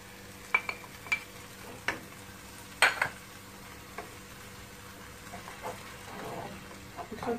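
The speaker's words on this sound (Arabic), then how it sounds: "ونزيد نخلي هذا البصل والفلفل يزيدوا يتقلاو مليح" Onion, pepper and tomato cooking in a pan for a spicy M'hadjeb sauce, a faint low sizzle under a handful of distinct spoon scrapes and knocks against the pan.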